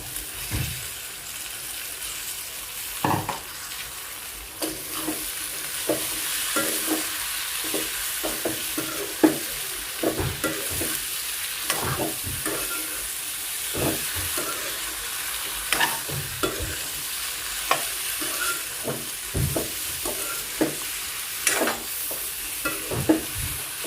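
Ivy gourd pieces are stirred and stir-fried in a pan for curry, with a steady sizzling hiss and repeated scraping knocks of a spatula throughout, no talking.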